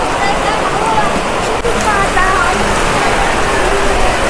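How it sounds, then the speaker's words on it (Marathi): Heavy monsoon rain pours in a loud, constant roar of drops hitting surfaces at a market, with faint voices in the background. "इकडे पाऊस काही थांबायचं नाव घेत नाही"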